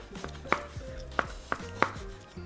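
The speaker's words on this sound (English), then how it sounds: "So just cut these slices." A knife slicing vegan meat on a cutting board, five or six sharp, close chopping knocks spaced irregularly, with no talking.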